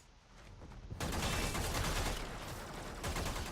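Sustained bursts of Braton Prime rifle fire in the game Warframe, loud and dense, with a sharp jump in intensity after the first second and steady rapid shots continuing to the end.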